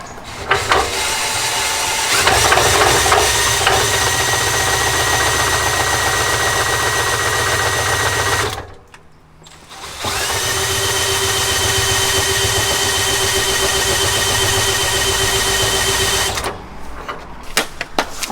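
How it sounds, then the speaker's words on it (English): A drill spins the pinion of a Dana 60 axle in an F250, whirring loudly and steadily, stopping briefly, then running again in reverse with a droning gear hum. "Now I'm going to spin the pinion with a drill, and then I'm going to put pressure on it, and I'm going to do forward and reverse"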